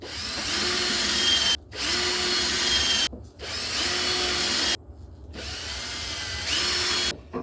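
A power drill bores pilot holes and countersinks into wood for a tiered garden planter, with several long, loud, steady whining runs broken by brief pauses, close to the listener and with no speech.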